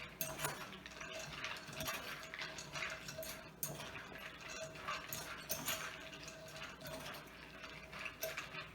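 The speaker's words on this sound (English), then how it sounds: "coat the almonds completely with that egg white mixture" Almonds are stirred in a bowl to coat them in an egg white mixture, giving quiet repeated clinks and scraping of the nuts and utensil against the bowl in an uneven rhythm.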